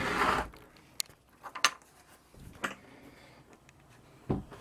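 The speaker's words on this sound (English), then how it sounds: "So move the carpet, pick up the hatch" A floor hatch is lifted on a Grand Banks 36 boat to reach the engine room: scattered knocks and sharp clicks of the panel and fittings, with a louder rustle at the start and occasional thuds.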